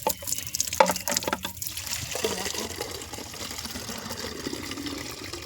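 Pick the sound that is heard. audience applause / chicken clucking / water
water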